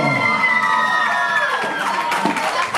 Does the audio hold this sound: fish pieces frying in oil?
no